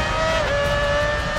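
Formula 1 race cars accelerating off the start in the F1 2006 video game: a loud, dense engine roar with steady high whining tones that hold on without a break.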